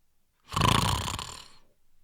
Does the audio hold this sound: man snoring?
yes